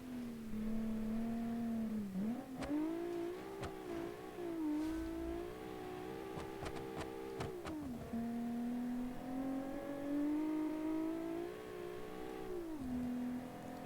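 Rally car engine in a 1982-season classic rally racing video game, revving steadily throughout with a rising and falling drone as the revs climb and dip through gear changes, loud and continuous with no talk.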